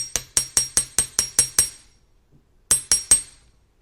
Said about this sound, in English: And chasing hammer just to flatten out the top here.